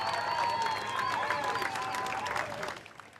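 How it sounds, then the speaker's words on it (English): An outdoor crowd at a surfing championship finals in San Clemente applauds, with clapping and some cheering mixed with tonal whistles, fading out near the end. "Let's give them a round of applause."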